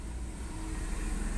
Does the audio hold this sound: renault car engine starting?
yes